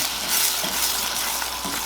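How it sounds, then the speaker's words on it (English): Bourbon sizzles in a hot pan with a bright, steady hiss as the alcohol burns off, with faint stirring scrapes underneath and no voices. "She's going to start sizzling because that alcohol is going to burn off."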